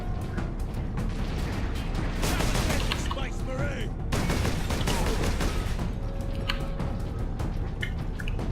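A bolter gun fires in the Space Marine video game, loud rapid bursts of shots cracking over a dense battle din, with voices in the mix.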